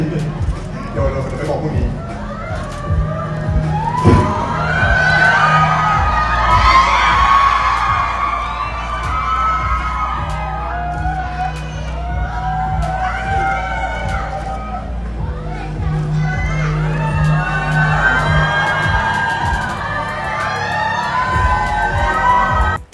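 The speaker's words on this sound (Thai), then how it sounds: "ท่ามกลางเสียงกรี๊ดนะครับ จากแฟนๆที่มาร่วมยินดี" A crowd of fans screams and cheers throughout a celebrity marriage proposal, high-pitched shrieks rising and falling over a general hubbub, with a voice speaking among them.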